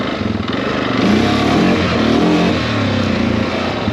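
A Honda ATV fitted with power steering and big mud tires, weak on power, drones steadily while being ridden, its engine note loud and close with slight rises in revs and no voices.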